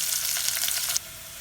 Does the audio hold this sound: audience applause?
no